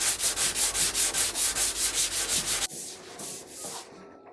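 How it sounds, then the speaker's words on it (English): Steady back-and-forth rasping of 240 grit sandpaper wrapped around a wooden block, hand sanding a repaired veneer on a mid century G Plan table; even rhythmic strokes, close and clear, slowing and thinning toward the end. "all I'm using here is some 240 grit sandpaper around a wooden block"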